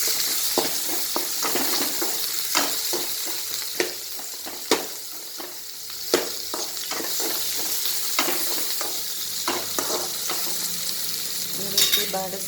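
Garlic and chopped onion sautéing in a pan for an Uttar Karnataka-style tonde kayi palle, with a steady close sizzle of frying and scattered clinks and scrapes of stirring throughout.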